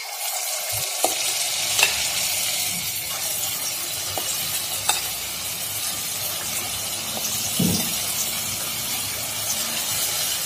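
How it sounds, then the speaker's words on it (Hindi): Moong dal fritters for Ram Ladoo deep frying in hot oil, a loud continuous hiss and bubbling sizzle with occasional clinks of a utensil, no talk. "गुलगुले तलकर रेडी हो गए हैं।"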